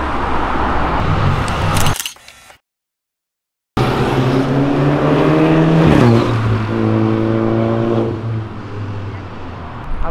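A BMW M3 with over 400 hp weaves through avenue traffic, its engine revving hard through rising pitch sweeps and gear changes, with a short silent gap early on and the roar easing off toward the end.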